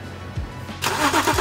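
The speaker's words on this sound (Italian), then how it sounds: "Avviare il motore e lasciarlo girare per 10-15 minuti." A car engine cranks and catches, then settles into a steady idle, left running to dry out a freshly washed engine bay; a broadband starting burst gives way to continuous engine noise, close and moderately loud.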